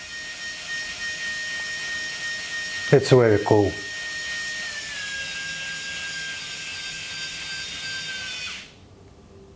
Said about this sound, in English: The motor is very compact, and here we have great demonstration effect